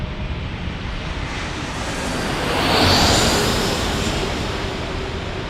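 A DHL Boeing 767 jet passes as a broad, roaring wash of engine noise. It swells to a peak midway, then slowly fades, heard from some distance with no talk.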